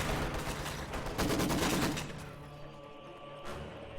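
Gunfire from snipers in a strategy video game, a dense crackle of shots that trails off into quieter background battle noise, with one more faint shot near the end.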